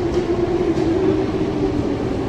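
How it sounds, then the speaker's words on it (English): A train approaches in a truck simulator video game, giving a steady, loud rumbling drone with a sustained mid-low tone, continuous throughout and with no voices. "What I want to see as well is a train approaching."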